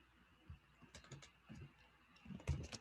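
Typing on a computer keyboard during a React Native coding workshop: scattered soft key clicks in irregular bursts, faint and close, ending with a slightly heavier keystroke cluster, no talk.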